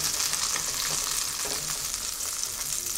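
Gingerbread slices frying in butter in a pan, giving a close, dense, steady sizzle and crackle that stays even throughout without pauses or voices.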